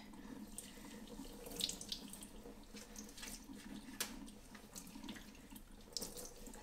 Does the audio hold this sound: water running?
yes